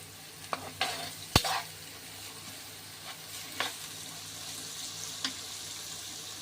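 Carrots and capsicum stir-fried on a high flame for noodles: a quiet, steady sizzle broken by a few sharp spatula clacks and scrapes against the pan.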